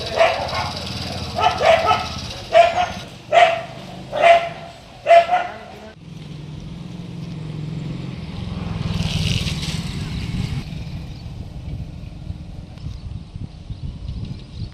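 Several stray dogs in a village street bark in a rapid run of about six loud, sharp barks over the first half, then fade into general street noise with a passing vehicle and people talking in the background.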